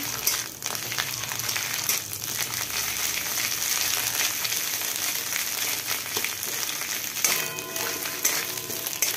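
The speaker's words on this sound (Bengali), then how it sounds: "এবার এই পাতা বাটাটা দিয়ে দিচ্ছি। এটা একটু ভালো করে ভাজতে হবে।" Ghetkul leaf paste frying in mustard oil in a pan gives a steady, close sizzle and crackle with occasional stirring scrapes, continuous throughout, with no one speaking.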